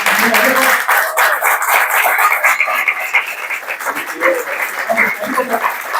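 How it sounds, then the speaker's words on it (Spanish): A lecture audience applauds in a dense, sustained wash of clapping that thins slightly toward the end, with a voice speaking faintly underneath. "Un aplauso para los compañeros."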